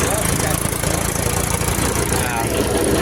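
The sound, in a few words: tractor engine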